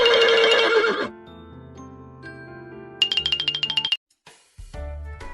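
A loud horse whinny opens, followed by a soft chiming tune, a quick run of bright tinkling tones, and a short jingle at the end.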